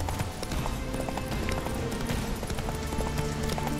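Horse hooves clip-clop steadily as a rider travels along a path in The Witcher 3, the rhythmic footfalls sitting in a dense bed of game music and ambience without a break.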